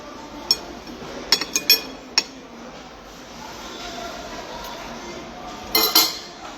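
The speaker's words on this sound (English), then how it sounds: "she want me to cut this with a butter knife" A butter knife clinks against a dish while cutting soft potatoes, giving a few sharp, separate taps early on and another cluster near the end, over a quiet room hum.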